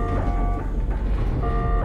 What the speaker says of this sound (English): Got a little beeping going on.